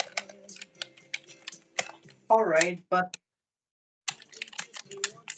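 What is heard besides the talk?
typing on a computer keyboard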